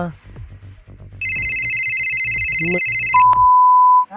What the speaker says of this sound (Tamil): மறுபடியும் ஃபோன் வருதுடா